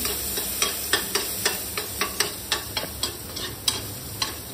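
Garlic sizzles in a pan while a utensil scrapes and stirs it in a regular rhythm of about a dozen sharp strokes over a steady frying hiss, with no voices.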